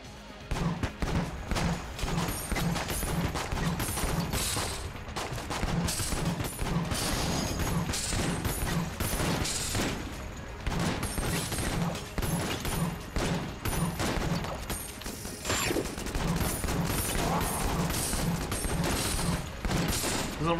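Pulse cannon fire aimed at a boss in Enter the Gungeon, a steady rapid stream of pulsing shots with mechanical thumps repeating loudly for about twenty seconds, briefly pausing now and then.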